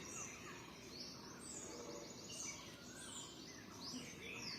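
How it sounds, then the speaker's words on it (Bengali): Early-morning birdsong under a heavily clouded sky: a quiet, continuous mix of distant chirps, trills and tweets from several birds, steady throughout with a low background hiss. "ভালো লাগে হ্যাঁ পাখির ডাকগুলো আর কি"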